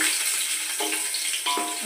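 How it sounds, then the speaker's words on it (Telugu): Onions tossed into a hot pan of oil for coconut rice set off a steady, close hiss of frying, with a couple of brief sharper crackles as they hit the oil. "ఇప్పుడు ఉల్లిపాయలు వేసేసుకుందాము"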